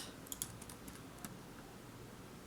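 Fingers tap on a computer keyboard in a quick, uneven run of soft clicks, faint and close against a low background hum, with no voices.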